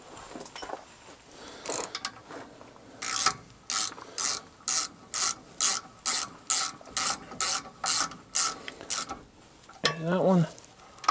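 A ratchet wrench with a 14 mm socket clicks in a rhythmic series of about a dozen sharp, evenly spaced bursts as it turns a caliper bolt on a 2011 Ford F250. The clicking is preceded and followed by softer handling noises.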